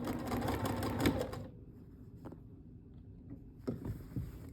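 Sewing machine stitching in the ditch along the seams of a quilted shirt, a steady rapid whir running loud for about a second and a half, then quieter handling clicks and a brief restart near the end.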